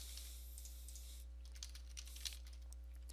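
Keystrokes clatter on a computer keyboard while entering a search in the Windows 10 Start menu, a quiet run of light taps that clusters near the end over a low steady hum.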